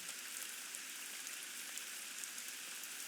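Steady rain hissing on surfaces outdoors in a Nancy Drew game, an even, dense patter with no pauses and no voices.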